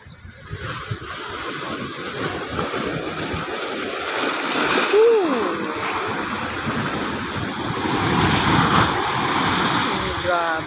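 Large waves left by Typhoon Kristine surging and crashing along a shore, a continuous loud rushing wash with swells building, while someone talks excitedly over the water.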